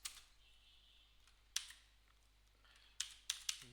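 Several sparse keystroke clicks on a computer keyboard while a chatbot prompt is entered, a few isolated taps then a quick cluster of three near the end, close and fairly quiet over a faint steady hum.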